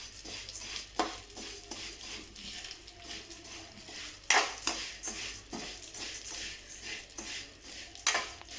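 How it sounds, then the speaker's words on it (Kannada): Vermicelli stirred and roasted in ghee in a pan for payasa, a quiet steady sizzle broken by regular spoon scrapes and occasional louder clanks against the metal, close and without voices. "ಸ್ವಲ್ಪ ತುಪ್ಪ ಸೇರಿಸಿ ಶಾವಿಗೆನ ಹುರ್ಕೊಳ್ಳೋಣ."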